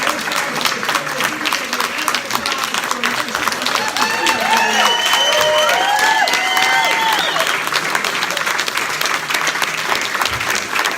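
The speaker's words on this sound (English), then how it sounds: "Another round of applause." Audience at a hospital gift announcement with a state senator and hospital CEO claps steadily throughout, a continuous wash of applause, with overlapping voices and some tonal sounds rising in the middle.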